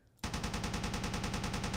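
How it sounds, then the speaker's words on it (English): A coaxial .50 cal machine gun fires from a tank in the Space Engineers video game, starting abruptly into a rapid, even stream of loud, heavy shots that keeps going without a break. "hit number 3 to turn on the machine gun"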